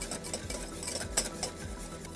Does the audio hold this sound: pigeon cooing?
no